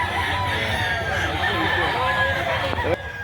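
A bull stag rooster crows at a busy chicken market, the call rising over steady crowd chatter and background clucking, with people talking close by throughout.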